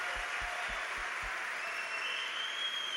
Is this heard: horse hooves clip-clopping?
no